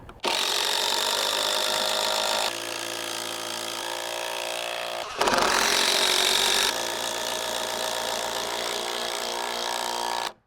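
Power drill driving GRK structural screws into a wooden wind brace on a DIY cabin frame, a steady loud whirring run for several seconds, a brief pause, then a second close burst.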